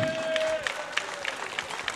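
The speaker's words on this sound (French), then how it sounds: "on les remercie et on les applaudit" A crowd at a Harley motorcycle gathering in Carnon applauds the prize-winning bike's owners with steady, rhythmic clapping. A high tone fades out at the start, under a soft wash of background noise.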